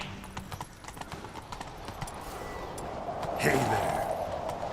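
Horse hooves clip-clop at a steady gallop in The Witcher 3, the beat running through the whole stretch under brief talk and ambient game sound, swelling louder near the end.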